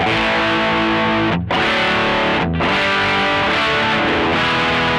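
An electric guitar played through a Boss OD200 on its fat, Rat-like distortion setting rings out in loud, sustained, gritty chords, broken only by two brief stops between changes, close and dense.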